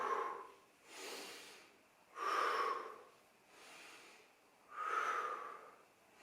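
Slow, deep yoga breaths during a gentle morning mobility session: about five alternating inhales and exhales, each a second or so of airy rush, close and clear with no talking.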